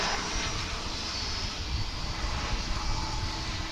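An airplane landing at Dallas/Fort Worth airport gives a faint, steady jet engine roar with a broad rushing hiss and no voices over it.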